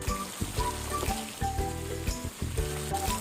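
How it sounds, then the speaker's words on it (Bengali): Pabda fish frying in hot mustard oil in a pan, a continuous crackling sizzle heard under background music with a steady melody. "এই যে পাবদা মাছগুলো ভাজতে দিয়েছি।"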